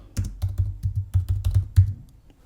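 Rapid keystrokes on a computer keyboard, typing a venue name into graphics during Photoshop editing, about a dozen close, clacky taps in a quick irregular rhythm with no voices.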